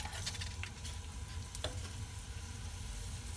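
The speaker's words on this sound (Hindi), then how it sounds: "प्याज को थोड़ा सा फ्राई करेंगे और फिर सब्जियां डालेंगे।" Onions frying in hot oil in a pan while making a vegetable spring roll filling, giving a steady soft sizzle with faint crackles and a light scrape partway through.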